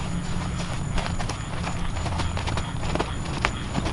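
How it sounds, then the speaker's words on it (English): Steady clip-clop of hooves from a horse trotting nearby, in an even two-beat rhythm that continues throughout. "So I might ask her to pick up the trot."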